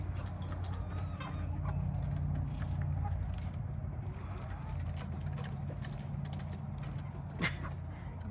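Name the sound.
chickens clucking while pecking at cabbage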